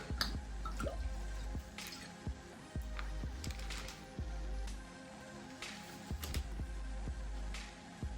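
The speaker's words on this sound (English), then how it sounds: "So I'm using pure rainwater here, which I harvest from the spring. Just going to give it a nice good lug." Rainwater poured by hand over a freshly repotted syngonium in chunky soil mix, giving close, steady wet drips and splashes with intermittent soft squelching.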